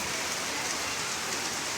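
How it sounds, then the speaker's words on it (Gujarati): Steady rain falls continuously, a dense hiss of drops pattering on surfaces, fairly close and even throughout with no voices. "શું સરસ વરસાદ ચાલુ થઈ ગયો છે"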